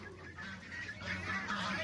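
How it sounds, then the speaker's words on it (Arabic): A flock of young geese from a first brood honks continuously at close range, a steady, overlapping chorus of calls with no talking. "اصور لكم الوز بتاع البطن الاولي اهو الوز"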